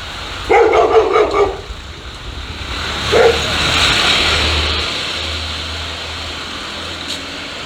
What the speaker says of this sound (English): Beautiful dog. He's so beautiful.